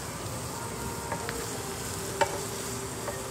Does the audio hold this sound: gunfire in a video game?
no